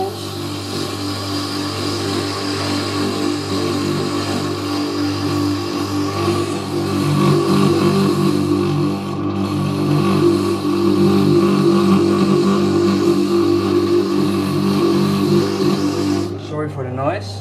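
A grinder spins a small bit cooled by a wedge sponge held against it, giving a loud, continuous droning whine with steady tone and slight swells in loudness throughout.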